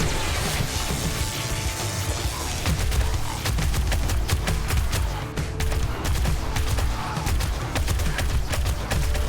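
A base turret in the zombie survival game 7 Days To Die fires in long, rapid bursts of loud gunshots that keep going almost without pause.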